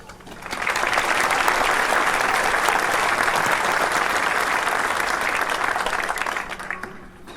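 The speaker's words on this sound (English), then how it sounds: "let's give a huge round of applause to our teachers" A graduation crowd applauds the teachers, the clapping swelling in within a second into a dense, loud, sustained roar of hands that holds steady for several seconds before tapering off near the end.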